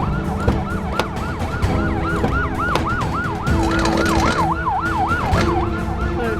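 An ambulance siren wails in a loud, continuous rising-and-falling cycle as it arrives at a construction worksite, with steady background noise underneath.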